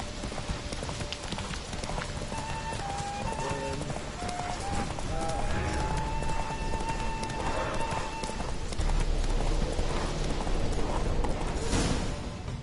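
Hooves of Roach the horse pound in a fast gallop in The Witcher III: Wild Hunt, a constant clip-clop rhythm under a busy game soundscape with brief tonal cues, steady and close.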